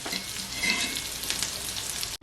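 Shami kababs fry in a pan over fairly high heat, giving a dense, steady close sizzle that cuts off abruptly near the end.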